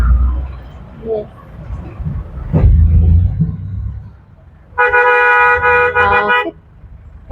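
Congested city road traffic rumbles low, then a car horn blares in one sustained blast of about a second and a half, loud and close, before the engine noise resumes.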